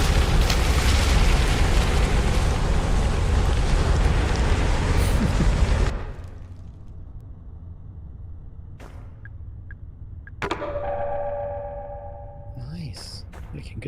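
A grenade in the horror game Crow Country erupts into a loud, sustained roaring blast lasting several seconds, then cuts abruptly to quiet, with a few sharp clicks and a brief tonal game chime afterward.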